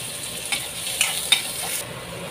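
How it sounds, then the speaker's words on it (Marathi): Chopped onions sauté in a pan over a lowered gas flame, making a steady soft sizzle with a few light scraping clicks from stirring, with no voices. "थोडंसं गुलाबी रंगापर्यंत परतायचं आहे कांद्याला."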